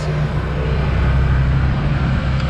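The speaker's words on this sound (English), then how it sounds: "You definitely hear the truck tire noise." A steady low drone of 32-inch off-road tire noise on the road from inside a moving Can-Am Defender side-by-side, constant and loud, with no talking.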